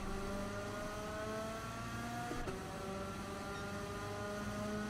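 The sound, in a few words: racing cars in a sim racing video game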